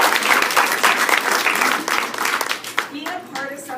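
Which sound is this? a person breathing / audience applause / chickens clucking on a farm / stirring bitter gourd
audience applause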